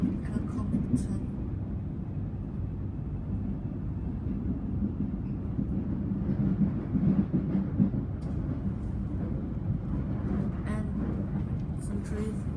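An empty Siemens carriage train rolling quietly near Frankston. A steady low rumble and rail drone holds evenly throughout, with a voice talking over it.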